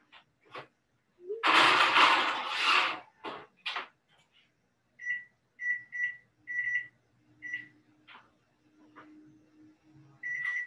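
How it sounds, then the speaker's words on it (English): A kitchen oven timer beeps in a string of short, clear, evenly spaced electronic tones, with clattering and handling noise before it and quiet kitchen background underneath. "our timer has gone off"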